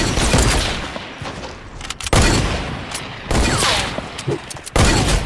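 Semi-automatic sniper rifle fire in a shooting video game: loud, close bursts of shots in several separate volleys, each followed by a brief gap, with no talking.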